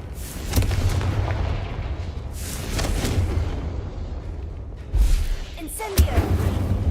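Confringo explosive spell cast in Hogwarts Legacy, a loud booming blast that bursts out several times over a dense rumbling game soundscape, with the sharpest hits near the middle and end.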